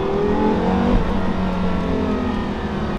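A Porsche Carrera GT with a manual gearbox revs its engine nearby, a loud, sustained mechanical wail that holds and shifts in pitch before cutting off sharply at the end.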